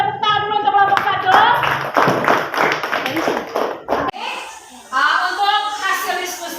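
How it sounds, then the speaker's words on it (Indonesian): A class applauding a student group during an informatics lesson in a school classroom, a dense burst of many hands clapping close by for a few seconds, mixed with children's and adults' voices. "kita tepuk tangan dulu untuk kelompok 1."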